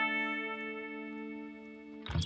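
A sustained distorted electric guitar chord through delay and distortion pedals rings out with shimmering ambient delay trails, steady and full, then a burst of noisy pick attack near the end.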